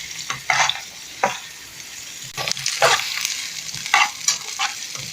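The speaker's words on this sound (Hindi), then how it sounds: "इसी तरीके से हम भून लेंगे इसे।" Potato samosa filling sizzling and frying in a pan, stirred with scraping strokes that come in soft, repeated bursts over a steady low hiss.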